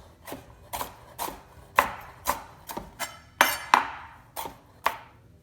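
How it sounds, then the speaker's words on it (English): A knife chops ginger steadily on a wooden board, about a dozen crisp, close strikes at an even rhythm with no talking. "so we're chopping this because ultimately it's going to be blended in the sauce."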